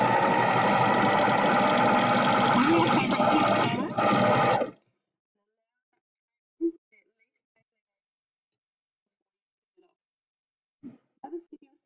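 A sewing machine stitches fabric with a continuous close mechanical whir for about four and a half seconds, then stops abruptly. Near-silence follows, broken only by a few faint, brief knocks and rustles.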